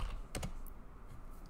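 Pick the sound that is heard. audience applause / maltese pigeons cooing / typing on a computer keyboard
typing on a computer keyboard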